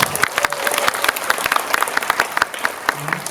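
Applause from an audience at a Seoul cinema talk event, a short burst of brisk, crowded clapping that carries on steadily before easing slightly near the end.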